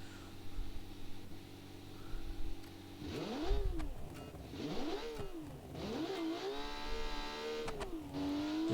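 Turbocharged low-boost inline-six rally car engine in a classic rally video game, revving up and down in several distinct rising and falling pulls, loud and close, ending in a sustained high rev with no talk.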